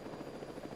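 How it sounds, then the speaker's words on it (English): A helicopter's steady, throbbing rotor drone fills a short moment, loud and continuous with a pulsing beat, and no voices over it. "Let's go get in the helicopter."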